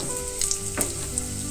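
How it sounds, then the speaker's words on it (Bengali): Ginger, garlic, green chili and coriander leaves fry in a pan with a steady, close sizzle, a few louder spits and stirring scrapes rising briefly out of the hiss. "এইটা সুন্দর করে ভেজে নেব।"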